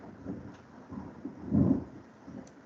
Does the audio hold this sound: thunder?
yes